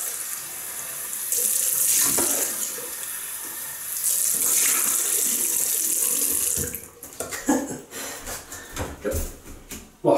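Running water from a tap splashes steadily into a sink as a shaving brush or face is rinsed off, close and continuous, then breaks into irregular splashes and handling noises toward the end.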